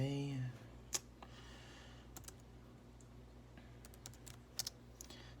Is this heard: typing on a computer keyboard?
yes